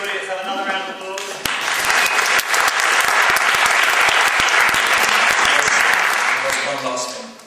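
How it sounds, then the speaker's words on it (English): Audience applause after a talk at a design event, erupting from a lone voice into loud, sustained clapping from a sizeable crowd that holds steady before tapering at the end. "Speaker, everybody, let's have another round of applause."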